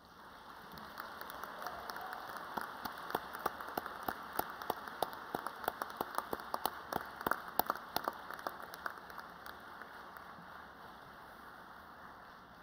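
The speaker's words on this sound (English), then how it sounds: "give them a big clap and a cheer" Graduation ceremony audience at the University of South Australia applauding at length, dense rolling clapping with sharp individual claps standing out, swelling in the middle and tapering off, with faint cheering in a large hall.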